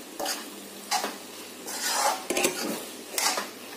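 Potato and capsicum sabzi with peanut powder stirred in a pan, a spoon scraping and clinking against the metal in several separate strokes, close and fairly loud with no talking.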